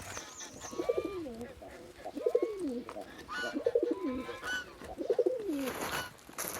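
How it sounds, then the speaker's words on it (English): A homing pigeon coos outdoors in repeated low, throaty phrases, about four in a row at steady intervals, close by, with faint outdoor background noise. "as she takes Fina, the homing pigeon, outside"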